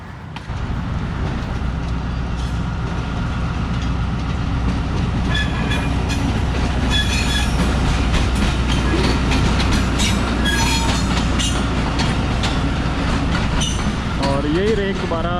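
Passenger train hauled by a ZC20 diesel locomotive rolling into Wazirabad Junction in heavy fog, a loud steady rumble of wheels and carriages with clickety-clack over rail joints and a brief wheel squeal near the end, someone talking over it.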